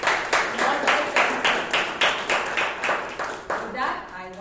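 A crowd at a Toastmasters club meeting in Bangalore claps steadily for several seconds, the rhythmic applause fairly close and full, fading slightly toward the end.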